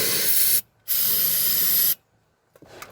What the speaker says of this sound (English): Take your brake clean, make sure everything's clean.